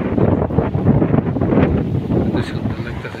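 Strong wind from a Kalbaishakhi storm sweeps over open rice fields in a rural village, a loud, continuous rushing roar that buffets the microphone in uneven gusts.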